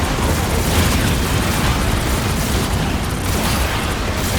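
Bombs exploding in the Marvel Rivals video game: a dense, continuous roar of overlapping blasts and rumbling booms, loud and sustained throughout with no pause.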